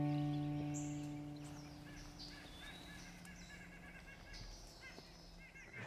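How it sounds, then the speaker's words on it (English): A nuthatch calls outdoors among trees, short repeated nasal notes at moderate distance amid other birdsong, with a steady low hum at the start. "Yeah, that's a nuthatch."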